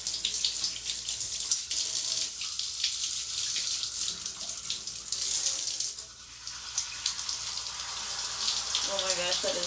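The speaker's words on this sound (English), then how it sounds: "now I'm gonna wash my hair" Tap water runs steadily into a sink or basin during hair washing, a continuous broadband splashing rush that dips briefly around the sixth second and then continues, loud and close.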